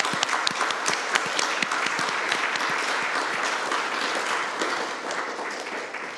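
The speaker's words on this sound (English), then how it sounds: "Please give them a round of applause" Audience at a Buddhist dharma talk claps together in sustained, dense applause that holds steady and fades slightly toward the end, with no voices over it.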